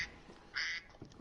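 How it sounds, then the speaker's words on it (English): Duck-quack alert tone from a mobile phone, a single short nasal quack sounding once, fairly faint and alone with no talk over it. "It's quacking. Yeah, it's my phone."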